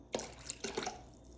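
Lemon juice poured into water in a kitchen for pickling olives, a short close splashy trickle with a couple of quick pours lasting about a second.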